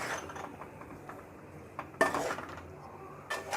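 Soy sauce and chili sauce are mixed in a pan: soft scraping, then two bright metallic clatters of a utensil against the pan, one near the middle and one at the end.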